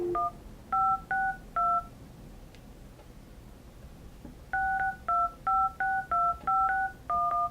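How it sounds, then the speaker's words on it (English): Keypad tones from a Grandstream GXV3275 desk phone, a short run of four clean touch-tone beeps, a pause, then a quicker string of about ten more, each crisp and evenly spaced over faint room hiss. "We can make a sample phone call here."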